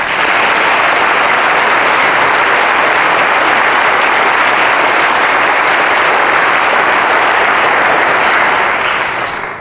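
A press conference audience gives the Bennett College Choir a loud, sustained round of applause, a dense, unbroken wash of clapping that carries on for several seconds before starting to fade.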